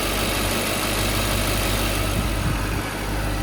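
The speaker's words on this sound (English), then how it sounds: "there's no strange ticks or wobbles or anything unusual from the engine." A Mercedes S63 AMG Designo's engine idles smoothly at close range, a steady low hum with no ticks or irregular beats, heard alone.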